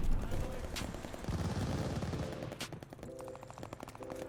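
PPSh submachine gun firing in Call of Duty Vanguard, rapid automatic bursts with dense rattling shots, loud and close, mixed with other game effects.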